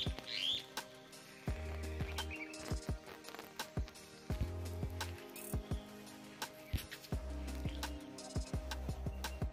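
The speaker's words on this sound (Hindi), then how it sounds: "प्यारी सी आवाज़ आ रही है चिड़ियों की चहचहाट की" Light bird chirps flicker in the background alongside a steady low rhythmic clopping, fairly faint and continuous throughout.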